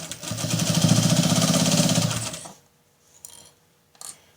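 A sewing machine runs a steady buzzing stitch line through a fabric lining, zipper and narrow strip on a triangular patchwork zipper pouch. It whirs continuously for about two and a half seconds, then stops, followed by a couple of faint clicks.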